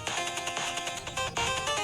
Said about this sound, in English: It's a good ringtone for your phone if you want it.